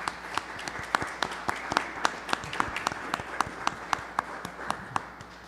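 Audience at a theology school presentation applauding the presidium, a light steady patter of clapping with distinct individual claps, moderately near and alone without talk.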